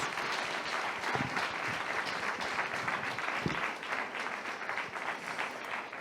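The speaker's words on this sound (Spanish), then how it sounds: "Un fort aplaudiment tothom, si us plau, pel Josep." Audience applause at a congress, a dense, steady wash of clapping from a crowd that fills the whole stretch at even loudness, with no voices over it.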